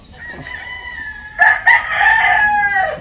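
Roosters crowing close by, one long drawn-out crow followed by a louder overlapping crow from another bird, with faint clucking in the background.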